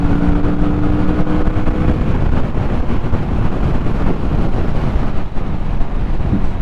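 A Kawasaki Vulcan S middleweight cruiser motorcycle rides along a road, its engine a steady loud drone blended with heavy wind rush across the microphone, with no talk.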